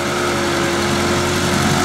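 A vintage tractor carrying a carry-all on its back end runs steadily up close, its engine a loud, even drone with no breaks or changes in pace.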